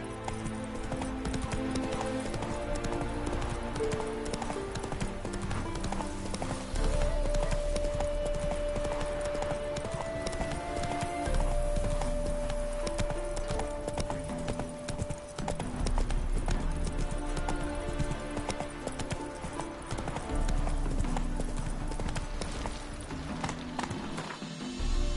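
Roach, the horse in The Witcher 3 video game, gallops with steady rhythmic hoof clip-clops over a dense game soundtrack and ambience, continuous and close.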